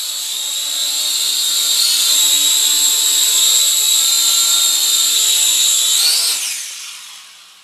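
A Syma X5HW quadcopter drone flies indoors, its high, steady rotor whine close and loud for several seconds, pitch shifting slightly during manoeuvres, then spinning down and fading as it lands.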